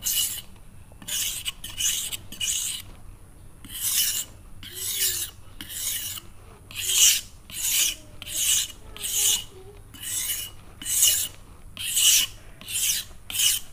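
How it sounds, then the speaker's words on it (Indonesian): A chef's knife scrapes back and forth across a gritty, abrasive whetstone in a steady rhythm of harsh rasping strokes, close up and fairly quiet. "di pisau cap koki ini dia abrasif banget. Suaranya lebih abrasif daripada yang di yinggan"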